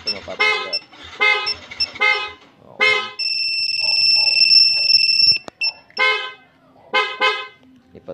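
A Yamaha Sniper150 motorcycle's anti-theft alarm horn sounds a loud, sustained electronic tone for about two and a half seconds, set between stretches of close conversational speech.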